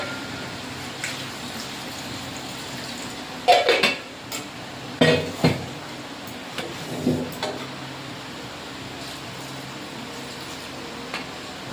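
A pot of chicken curry is handled on the stove and covered with a lid, giving a few close metallic clanks and scrapes in an otherwise quiet kitchen.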